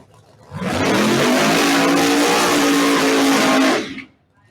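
A Pro Mod drag race car on a single qualifying pass roars in loud and close, holding a harsh, sustained full-throttle blast for about three seconds before cutting off abruptly.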